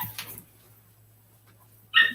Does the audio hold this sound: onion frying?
no